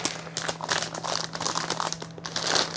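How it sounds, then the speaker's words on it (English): Paper crinkling and crumpling while a PC build box is unpacked, a steady close rustle with irregular louder crackles throughout. "Have to excuse the crinkling of the paper."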